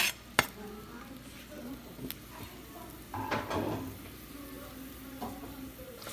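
Minced shallots drop into olive oil in a pan and sizzle softly, with a sharp clink of a utensil at the start and a brief stirring scrape partway through.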